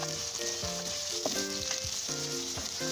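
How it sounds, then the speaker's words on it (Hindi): Cauliflower frying in oil for aloo gobi gives a steady, close sizzle that runs through the whole stretch beneath a melodic tune, with no talking. "ऑयल में इसको थोड़ा सा फ्राई करूँगी।"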